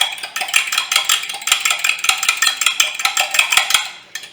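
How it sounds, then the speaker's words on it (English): A fork whisking a raw egg in a measuring cup, quick steady clinks and scrapes ticking in a fast irregular rhythm, close and clear with no talking. "I'm going to crack it into this measuring cup first and give it a quick little whisking with a fork"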